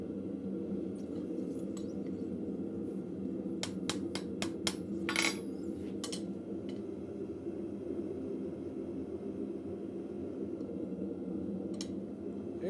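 Several sharp metallic hammer strikes ring out in a quick cluster at a blacksmith's forge, over a steady background roar, then the shop settles back to a constant hum.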